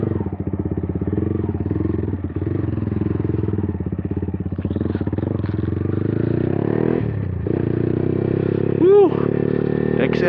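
A Yamaha XSR motorcycle engine hums steadily up close while riding on a road in Sorsogon, with wind noise and a rider's voice talking and cheering over it.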